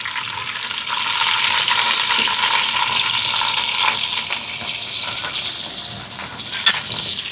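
Onions, green chilies and whole spices sizzle steadily in hot oil in a pan while making egg biryani, a continuous close frying hiss with no talking.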